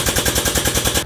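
An air-powered press jack on a brake press machine runs off an air compressor. It makes a loud, close, rapid rattling hammer of evenly spaced pneumatic pulses that cuts off abruptly.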